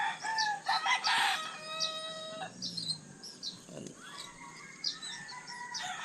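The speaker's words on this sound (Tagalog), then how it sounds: "Nasa baba lang yung mga manok natin." A rooster crows loudly several times in long drawn-out calls, with other fowl answering and clucking nearby in a quiet night setting.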